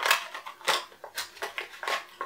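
Scissors snipping, a quick series of about eight crisp cuts in an irregular rhythm, close and clear with no talk.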